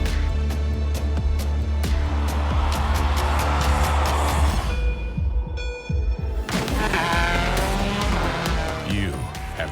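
A race car at a sim racing expo revs hard through gear changes, its engine note climbing and dropping, with tire squeal and skidding, a brief lull, then renewed high-pitched revving and squeals, all loud and close.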